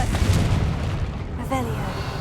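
A Confringo blasting spell erupts in Hogwarts Legacy with a heavy, rumbling boom at the start, then a second burst and crackle partway through, loud and close against a low background.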